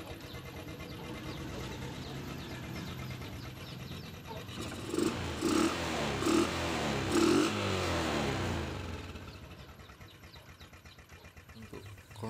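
A 2012 Yamaha Vega ZR motorcycle engine runs at idle, a low steady putter with a brief rise in revs midway before settling back down, heard close up with no voices.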